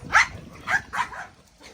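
Dogs bark outdoors in a winter garden, three or four sharp yips and barks spaced across a couple of seconds, moderately close, with a fainter final bark trailing off.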